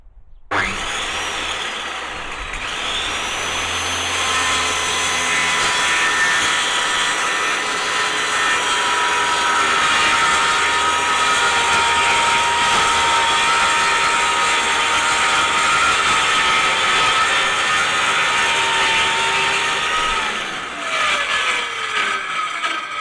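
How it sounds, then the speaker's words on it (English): A circular saw cuts through a kitchen worktop on a trailer bench, its high whining drone sustained and loud for about twenty seconds before spinning down at the end. "I'm just going to cut it with the circular saw"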